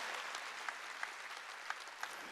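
Congregation applauding during a Wednesday church worship service: a steady, moderately faint wash of clapping with a few sharper individual claps standing out now and then.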